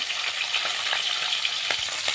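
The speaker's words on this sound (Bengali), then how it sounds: "মাছটা ভালো করে ভেজে নেব" Chang fish fry in mustard oil in a kadai, a short burst of close, steady sizzling with fine crackles and small pops running evenly under no talk.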